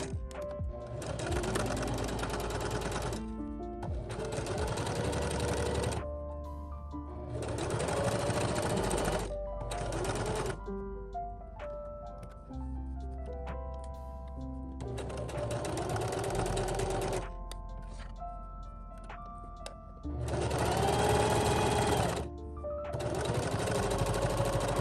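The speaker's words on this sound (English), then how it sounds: "we just sew a straight stitch on 3 sides" A sewing machine runs a straight stitch through fabric layers with batting in bursts of steady, rapid needle clatter, stopping and restarting several times, close and clear, with little talk.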